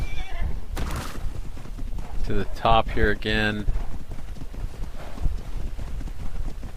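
Horse hooves clip-clop steadily in a video game while a horse neighs and whinnies partway through, with a person talking over the sounds.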